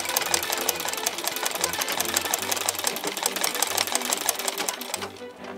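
A sewing machine runs continuously as it stitches a seam on a small napkin, a rapid even rattling hum close by that slows and fades at the very end.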